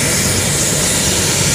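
A Netcare 911 medical evacuation helicopter roars loudly and close, a dense, steady engine and rotor drone that fills the whole short stretch with no talk.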